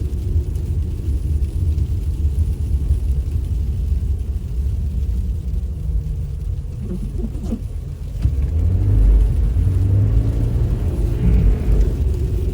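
A Subaru Crosstrek driving on a snowy road with traction control off: a steady low interior engine and road rumble that swells and grows louder as the car accelerates toward the end.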